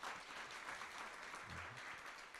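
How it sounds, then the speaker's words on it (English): Faint, distant applause from a symposium audience, a soft continuous patter of many hands at low level with a brief low murmur partway through. "A round of applause, please,"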